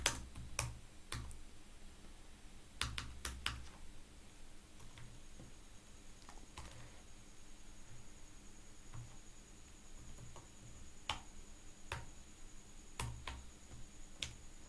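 Scattered keyboard clicks from typing HTML on a computer come through faintly, isolated taps and short clusters spaced irregularly over a quiet room hum, with no voice.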